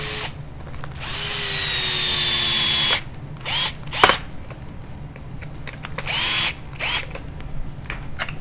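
A cordless power drill drives chassis brace screws into the underside of a Tekno NB48 2.1 RC buggy, with a long steady whir followed by several short bursts of spinning and ratcheting, close and loud with no talk.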